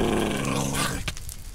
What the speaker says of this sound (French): Regarde, y'a un toutou là, il va grogner